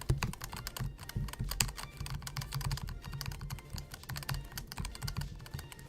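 Red key switches on a leverless fight-game controller are pressed in rapid, dense bursts, each one giving a sharp, clacky, rattly click close up with no pauses between them.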